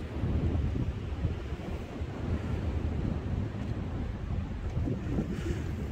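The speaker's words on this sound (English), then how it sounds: "Bit windy, but isn't it windy everywhere, as they say?" Strong wind in York buffets the microphone in continuous gusty roars, with a broad rushing noise that swells and eases but never stops.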